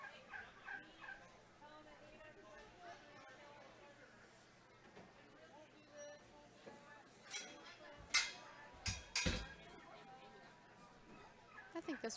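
Young bronze turkeys, toms and hens, gobble in a 4-H poultry show hall, several bursts of rattling calls rising louder toward the end over a background of crowd chatter and voices.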